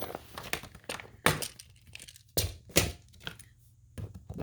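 Small loose metal and plastic spacers and parts for a Tacx Neo 2T trainer tumble out of a bag in several quick clattering bursts, close and fairly quiet, with short pauses between.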